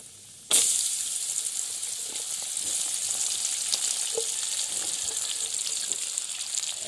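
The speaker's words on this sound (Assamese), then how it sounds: "এতিয়া মই তেলত ভাজি ল'ব লাগিব।" Elephant apple and other pickle ingredients fry in hot oil, giving a sudden burst of sizzle that settles into a steady, close crackling hiss for several seconds, with no talking.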